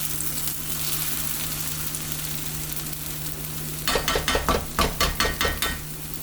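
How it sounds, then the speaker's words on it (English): Sausages sizzling in a non-stick skillet, a steady fry hiss that turns into a run of louder crackling pops and stirring scrapes partway through, close and with no talk. "We're gonna cook these on a non-stick skillet."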